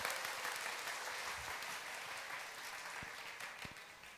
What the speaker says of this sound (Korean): 우리 청년들을 위해서 박수 부탁드리겠습니다.